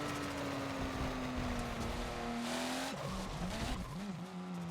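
A race car in the Forza game brakes into the pit lane at Bathurst, its engine note dropping and wavering as the tires squeal under braking, loud and continuous with no speech.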